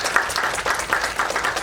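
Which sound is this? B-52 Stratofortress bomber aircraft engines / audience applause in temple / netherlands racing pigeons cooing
audience applause in temple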